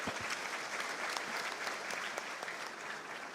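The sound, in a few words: audience applause at an engineers' conference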